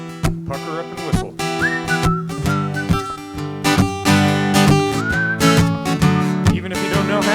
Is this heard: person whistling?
yes